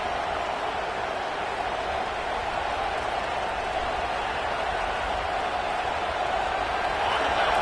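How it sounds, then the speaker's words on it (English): Stadium crowd in a college football video game, a steady, dense roar of cheering fans filling the whole stretch without a break, rising slightly toward the end. "And this crowd coming to life here, trying to help the defense get a stop."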